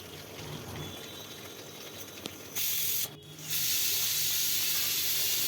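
A pressure cooker holding fried potatoes releases steam in a strong, steady hiss that starts abruptly, breaks off briefly and then returns louder, after a quieter stretch of faint kitchen noise.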